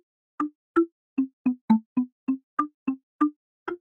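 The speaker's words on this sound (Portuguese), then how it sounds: "só eu clicando nos quadradinhos aqui que ele vai colocando o som" About a dozen short synthesized plucky notes entered by clicking grid squares in Chrome Music Lab, sounding one at a time at an uneven pace with silence between them.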